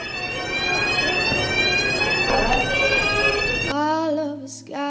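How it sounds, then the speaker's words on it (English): A fire alarm goes off indoors at an art event, a loud, steady electronic tone that holds for several seconds before abruptly shifting to a different pitch. "we've already got a little false alarm, fire alarm going on right now"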